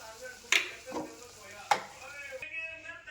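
Green chillies tossed into hot oil with browned coconut in a pan, giving sharp sizzling bursts and stirring scrapes over a steady low frying hiss, close and moderately loud.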